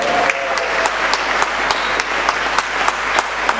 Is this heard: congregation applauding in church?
yes